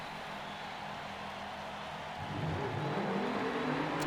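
Race cars roar off the grid at the start of a Forza video game race, twenty-three cars at Circuit of the Americas, a broad steady engine drone that swells louder partway through as the pack accelerates.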